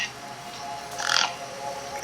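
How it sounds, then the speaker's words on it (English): A gang bird in Beyond a Steel Sky, eyeing a corpse propped against a rock, gives a single short harsh squawk over a low steady ambient hum. "The gang birds were eyeing up the corpse hungrily."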